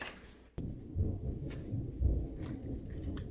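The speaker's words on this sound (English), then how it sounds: "You hear the thunder?" A low, rumbling boom of distant thunder rolls in after a brief quiet, lingering as a soft, steady rumble.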